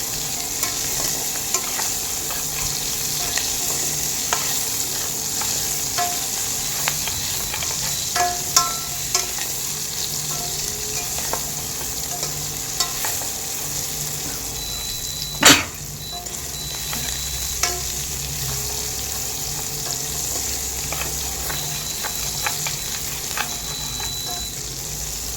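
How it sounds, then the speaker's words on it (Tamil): Onions sautéing in a pan as the base for a Tamil-style squid curry, a steady low sizzle with scraping stirs throughout and one sharp clatter midway, no talking. "வெங்காயத்தை எவ்வளோ வதக்குறோமோ அதுதான் டேஸ்ட்டு."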